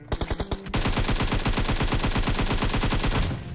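Rapid automatic AK rifle fire in the mobile battle-royale game PUBG Mobile, a few spaced shots followed by a sustained loud burst of evenly repeating rounds lasting about three seconds.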